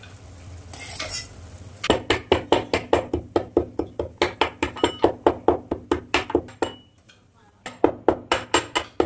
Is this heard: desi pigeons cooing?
no